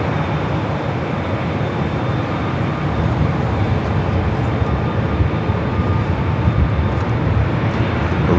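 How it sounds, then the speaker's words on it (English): A JetBlue Airbus A321neo long-range jet airliner at LAX, bound for Boston, gives off a steady, broad engine roar that swells slightly as it goes on, heard alone at a moderate distance. "JetBlue flight 1388 heading to Boston in A321 Neo long range."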